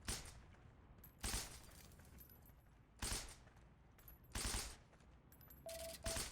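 Video game gunfire shooting out street lamps, several short bursts of sharp shots separated by pauses over a quiet background hum, with a faint electronic tone near the end.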